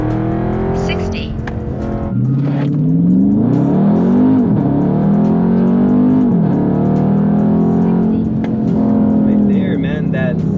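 A Dodge Charger 392 Scat Pack accelerates hard in sport mode, its V8 note rising loud and close through several upshifts with brief dips between gears, the engine roar steady and dominant throughout.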